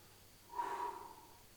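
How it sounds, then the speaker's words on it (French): A single deep breath during stretching, one soft, airy exhale of about a second that swells and fades, heard close up against a quiet background. "Respirez, soufflez bien, profondément."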